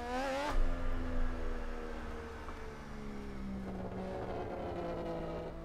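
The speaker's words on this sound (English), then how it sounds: "Take a minute to appreciate the sound of this car." A Mazda RX-7 FD rotary engine in the racing game Assetto Corsa, revving hard with a sharp burst, then settling into a steady, loud, buzzing drone with rising and falling harmonics, heard alone.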